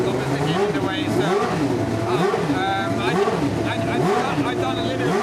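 Racing car engines at the Goodwood Festival of Speed roar continuously and loud, with repeated rising and falling revs as cars pass, steady and dense throughout.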